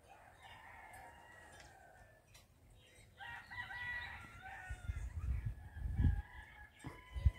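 Parrots calling outdoors on Bonaire, a series of harsh, crowing squawks and chatter rising in strength toward the end over some low rumbling noise, with no speech.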